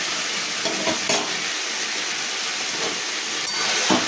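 Fish curry with split green chillies, salt and turmeric is stirred in a pan, giving a steady close sizzle and hiss with occasional scraping strokes of the spoon, no talk.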